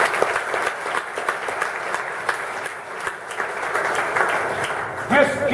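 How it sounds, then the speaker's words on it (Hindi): Loud applause from a student audience at a motivational talk, dense steady clapping throughout with a brief swell near the end. "ताली बजाओ जोर जोर से।"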